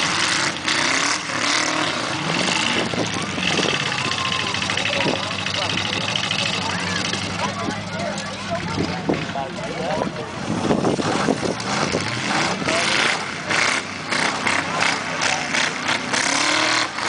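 A race car with a custom exhaust roars and revs in bursts at a Flagstaff, Arizona consolation heat, rising and falling over a steady mechanical drone, with people talking over it.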